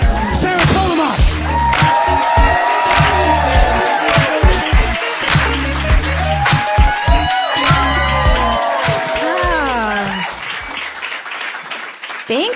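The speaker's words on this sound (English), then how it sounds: "Start clapping right now." Audience applauding and cheering as comedian Sarah Tollemache comes out for a stand-up special, loud sustained clapping and whoops mixed with entrance music that fades near the end.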